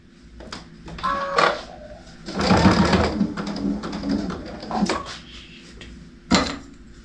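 A sewing machine stitches through the thick corner of a fabric placemat, whirring in uneven bursts with clunks and knocks between runs, close and moderately loud.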